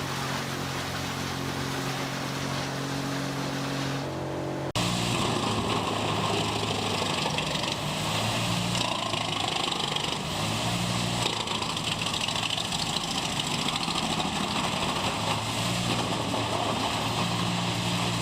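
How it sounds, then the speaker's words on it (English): A Kesla C645S wood chipper runs with a Kesla 305T loader feeding it, a steady loud engine drone that shifts to a harsher, fuller roar partway through and holds without any talk. "C645S wood chipper is hard at work, fed seamlessly by the agile Kesla 305T loader"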